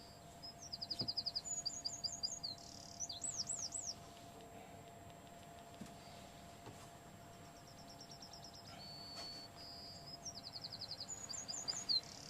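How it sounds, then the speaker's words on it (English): Several small birds tweet in quick chirping bursts and trills, fairly close and clear over a quiet background, with pauses between the phrases. "It should literally be sitting there with that bird tweeting going on."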